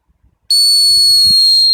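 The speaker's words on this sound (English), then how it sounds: "Now I'm going to use a whistle." A dog training whistle blown in one long, loud, steady high-pitched blast that starts abruptly and holds to the end, with faint low murmurs before and beneath it.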